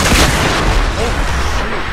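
Gunfire in the video game Fortnite, a loud dense barrage of booming shots that fills the whole stretch without pause.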